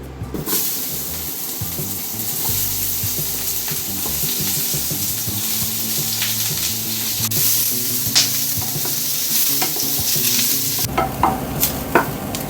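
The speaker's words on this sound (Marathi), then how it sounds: "असा कांदा लाल होईपर्यंत भाजून घ्यायचा चांगला, थोडा आणखी जास्त लालसर होतो." Chopped onion frying and sizzling in a pan, turning reddish-brown as it is stirred, a steady loud close hiss with occasional scrapes of the spoon.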